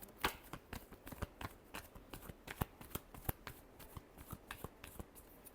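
Tarot cards shuffled by hand at close range, a rapid run of crisp flicking riffles and soft slaps repeating steadily for several seconds, quiet and with no voices.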